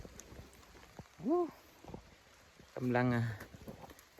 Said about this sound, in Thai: เอาแล้วฝนตกแล้ว